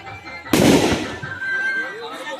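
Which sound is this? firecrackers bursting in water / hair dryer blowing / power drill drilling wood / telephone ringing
firecrackers bursting in water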